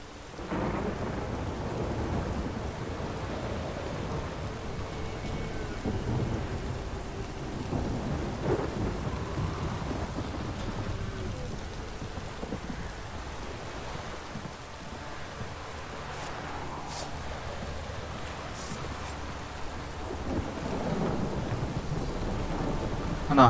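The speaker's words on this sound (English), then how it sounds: "Lightning strike." Rain pours steadily through a thunderstorm in The Witcher 3, with rolling thunder rumbling across the whole stretch, heavy low booms recurring over the constant downpour.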